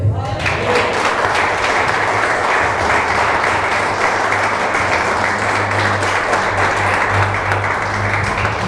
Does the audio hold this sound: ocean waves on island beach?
no